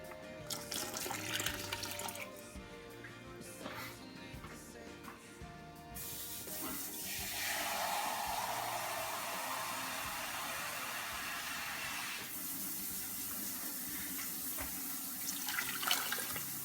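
Water runs steadily from a tap or is poured into a pot of simmering chili beans, a continuous close hissing splash that swells in the middle of the clip, with faint background noise and no talk.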